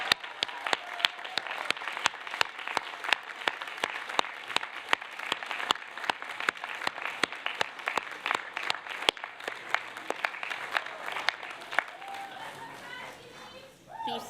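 A sizable audience at a university graduation ceremony claps steadily at a moderate distance, sustained applause with individual claps standing out, fading out near the end.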